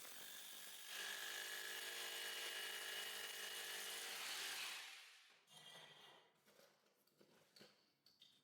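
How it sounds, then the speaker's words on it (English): A steady power drill whirs for several seconds at close range while drilling into drywall framing, then winds down, followed by light scraping and tapping. "and drill it."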